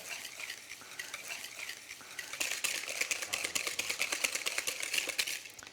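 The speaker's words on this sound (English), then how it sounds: "I'm going to mix some egg yolk with some caster sugar. I'm just going to whisk them together." Egg yolks whisked with caster sugar in a bowl, a rapid, rhythmic ticking of the whisk against the bowl that grows louder and busier partway through, close and with no talking.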